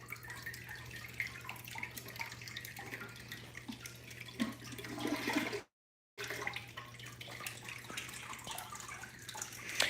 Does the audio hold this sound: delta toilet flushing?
yes